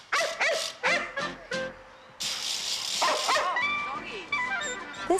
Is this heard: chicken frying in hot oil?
no